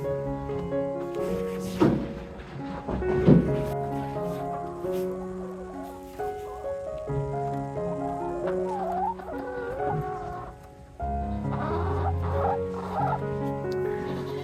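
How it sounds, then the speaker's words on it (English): A chicken sitting on eggs clucks and calls close by in a continuous run of throaty, warbling notes with brief pauses, rising to a louder stretch near the end with no talk over it. "You're a chicken trying to hatch eggs?"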